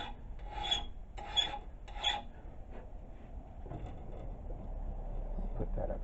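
Hand file rasping across a small metal square during restoration, three loud strokes in the first two seconds, then quieter scraping and handling noises.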